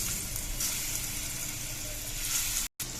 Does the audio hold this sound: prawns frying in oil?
yes